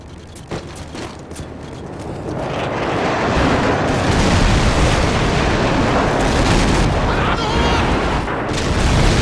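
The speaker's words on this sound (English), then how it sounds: "Friendly airstrike on the way!" Airstrike explosions in Call of Duty 4 team deathmatch, a deep rumbling roar of blasts that swells over a few seconds and then holds as a loud, sustained barrage, with brief gunfire pops near the start.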